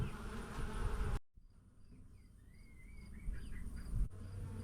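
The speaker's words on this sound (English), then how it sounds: "just kind of watch the bees coming and going from the hive." Honey bees buzz steadily around a hive entrance outdoors, a continuous low drone with some louder passes close by, broken briefly by a sudden drop and a faint chirp of birds in the background.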